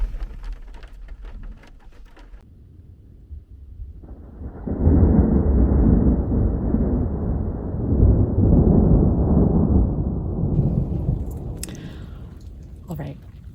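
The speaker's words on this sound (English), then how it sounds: "There's still some thunder and lightning, what seems to be quite a ways out." Thunder rolls in at an overland camp on the Rimrocker Trail after rain, a long, deep rumble that builds, holds for several seconds, then fades back toward quiet.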